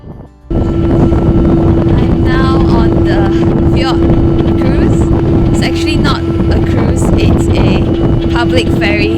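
A public ferry on an Oslo fjord cruise drones loudly and steadily with a constant engine hum and wind rush, while voices talk over it throughout.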